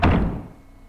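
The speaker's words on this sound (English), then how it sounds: "I think I want to go in this door now" Heavy door swinging open in the Resident Evil REmake video game, a single low, booming thunk at the start that fades into a dull, hollow decay.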